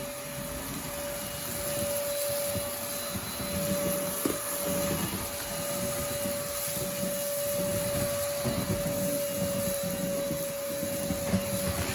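A cheap no-name cordless stick vacuum hums steadily with a high whine throughout, faint rattles and ticks of rice grains being sucked up underneath.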